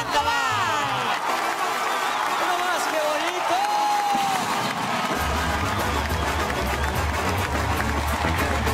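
A large crowd applauds and cheers loudly and steadily for a band on a Mexican stage show in Guanajuato, with whoops rising over a continuous wash of clapping and music.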